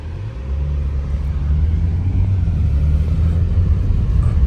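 A BMW car engine pulls hard under acceleration, a loud steady low rumble heard from inside the cabin that swells after the first half second and holds.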